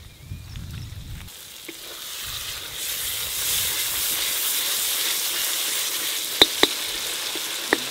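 Tomatoes tipped into a hot pan of South Indian fish head curry made with rohu head and tamarind juice, a steady hiss of sizzling that swells and stays loud, with a few sharp clicks near the end.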